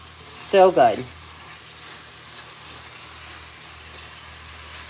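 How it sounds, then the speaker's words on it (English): Onions frying alongside cubed steak in a pan produce a low, steady sizzle. A voice speaks briefly near the start, and the sizzle then carries on quietly alone. "Those onions are just going to get nice and soft and caramelized"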